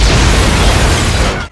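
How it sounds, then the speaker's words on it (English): An explosion in the 1998 horror film Bride of Chucky roars as a loud, dense, sustained blast, cutting off abruptly near the end. "the method he uses is explosion"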